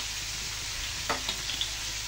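Spicy chicken feet sizzle and crackle in a hot pan just after soy sauce and vinegar go in, a steady close frying hiss with a few brief sharper pops.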